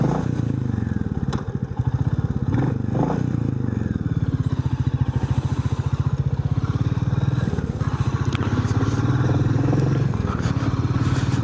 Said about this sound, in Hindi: सबसे पहले आप इंजन साउंड सुनिए।